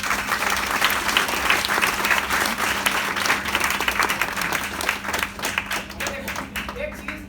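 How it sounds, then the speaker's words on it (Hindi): An audience applauds a woman invited up for a live sanitary napkin demonstration, with loud, steady clapping from a crowd and a voice talking over it. "एक बार जोरदार तालियां मैम के लिए।"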